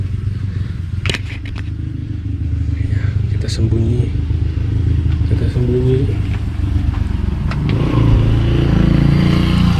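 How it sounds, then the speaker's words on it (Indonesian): A motorcycle passes along a village lane in Cibueuk, Cimalaka, Sumedang, its engine drone building steadily beneath close conversation and growing louder toward the end. "Ada motor yang lewat."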